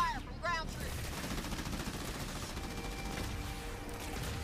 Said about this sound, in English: Under fire from ground troops.